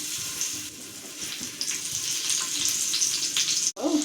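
Small seer fish (vanjaram) sizzles and crackles steadily in hot oil on a tawa griddle, close and fairly loud, with a brief clatter near the end.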